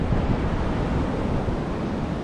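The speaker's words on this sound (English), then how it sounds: "The waves look big." Ocean surf breaks over a rocky reef on a desert island shore, a loud, dense roar of waves mixed with wind buffeting the microphone.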